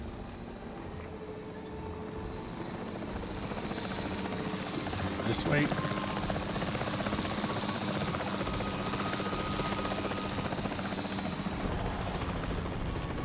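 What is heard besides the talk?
capture team helicopter in video game Jurassic World Evolution 3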